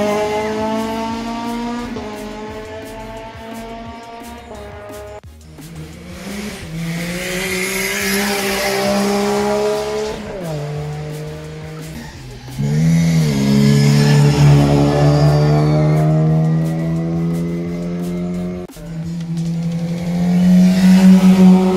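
Loud race car engines scream through rising and falling gear changes at the Shelsley Walsh hill climb, one car after another revving hard up the course, with brief tire squeals.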